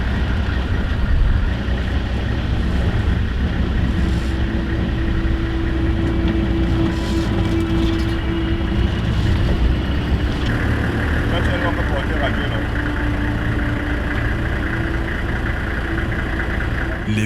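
Military vehicle engines droning steadily as a convoy moves, a dense loud mid-to-low rumble with shifting tonal whine, continuous and close throughout, with faint voices underneath.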